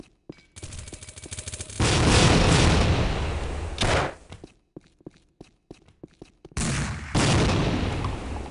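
Two loud, roaring grenade blasts in the tactical shooter Tactical Ops, each a broad rumbling burst lasting a couple of seconds, separated by a run of sharp gunshot-like cracks and clicks.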